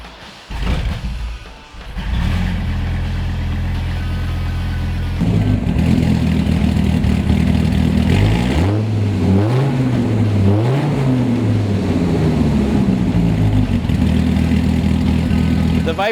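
A 2004 Dodge Viper SRT-10 engine cranks and fires up, settles into a deep rumbling idle, then is revved several times, pitch rising and falling; talk is faintly mixed in.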